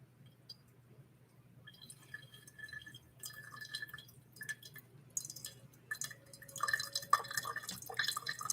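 Kenyan Murang'a AA coffee draining through a Hario V60 pour-over dripper, a soft trickle of drips that grows busier and more clinking toward the end, close up with no talking.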